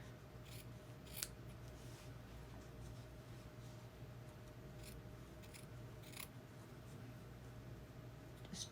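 Quiet snips of scissors trimming small fabric pieces for slow-stitch quilting, a handful of brief crisp cuts spaced irregularly over a low steady room hum.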